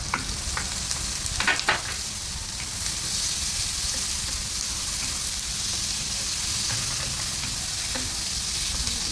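Leftovers frying in a pan with tomatoes added, giving a steady close hiss and sizzle throughout, plus a few brief clinks of stirring near the start and no talk.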